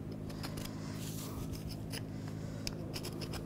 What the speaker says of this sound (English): Use a scraper.